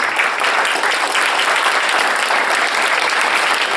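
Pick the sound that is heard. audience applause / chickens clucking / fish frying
audience applause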